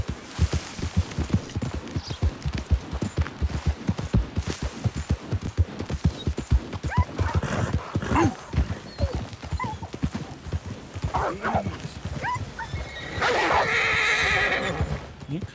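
Horse hooves clip-clopping in a brisk, steady rhythm in the Red Dead Redemption 2 video game, with a loud whinny breaking through near the end, close and prominent over a faint game backdrop.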